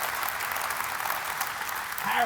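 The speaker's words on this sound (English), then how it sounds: "Round of applause for amazing leader, Jim." A crowd applauds a leader named Jim at a container port ribbon-cutting ceremony in Newark, with steady, dense clapping throughout and swelling slightly at the end.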